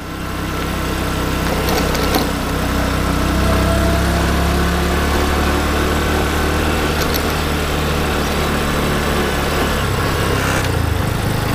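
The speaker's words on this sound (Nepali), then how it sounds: "यो बाइक लास्ट चाहिँ कुद्दो रहेछ" A motorcycle engine runs during a ride, a loud continuous drone with steady low rumble and some wind buffeting, no voices heard.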